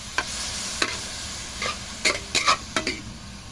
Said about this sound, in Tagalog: Sangkutsa muna natin yung ating karne mga kabi.